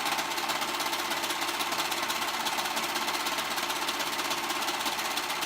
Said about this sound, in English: I'm gonna serge, but you can zigzag stitch if that's what you would like.